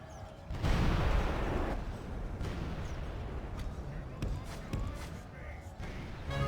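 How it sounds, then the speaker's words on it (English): Cannon towers firing in a Medieval II: Total War Crusades battle, with a heavy booming burst near the start followed by scattered thuds and sharp cracks over an ongoing battle din. "the cannon towers are really hurting our crossbows"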